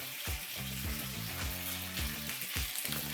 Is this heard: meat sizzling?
yes